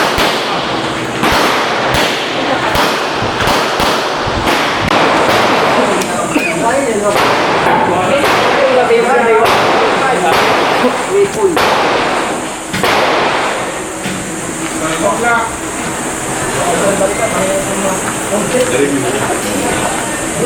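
Shots ring out from a gun being fired at targets on a shooting range, with sharp cracks in quick bursts and then spaced out. People talk between and over the shots.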